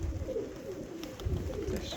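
Serpasti pigeons coo softly and repeatedly over a constant low rumble of wind or background noise.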